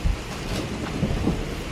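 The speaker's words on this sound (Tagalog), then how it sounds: "May kulog at kidlat." Rain pours steadily through a storm while low thunder rumbles nearby, one deep boom at the start and softer rolls after, without speech.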